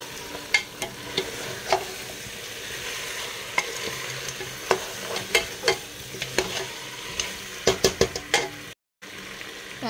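Fried potatoes stirred into braised meat in a pan, a close sizzle under repeated scraping and clattering of a spoon against the pan, irregular knocks and stirs throughout, with a brief dropout near the end and no talk.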